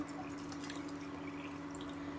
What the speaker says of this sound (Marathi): हे दुसरं भांडं टाकून घ्यायचं आणि थोडंसं अर्ध भांडं वरी आपल्याला पाणी टाकायचे